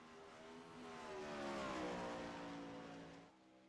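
A sprint car engine screams around a speedway at Williams Grove in a sim racing game, a loud, steady high-pitched drone that swells as the car passes close, then drops abruptly near the end.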